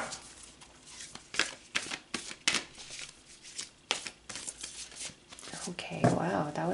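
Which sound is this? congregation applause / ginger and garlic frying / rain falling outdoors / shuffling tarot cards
shuffling tarot cards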